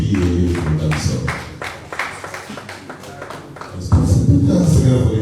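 An audience claps at a Nigerian Union of Journalists South-South media retreat and awards ceremony. The applause is a dense, steady patter, with a low rumble of background sound beneath it and a louder swell near the end.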